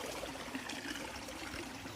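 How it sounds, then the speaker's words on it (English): A smooth waterfall on a gold prospecting stream gives a continuous, even rush of running water, steady and fairly close with no voices. "We're like at the top of a waterfall. The waterfall is super smooth"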